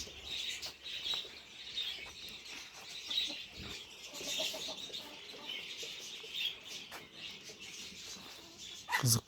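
Chickens cluck and chirp busily in a farm poultry house, a steady, fairly close chatter of fowl that runs without a break, with a louder burst at the very end.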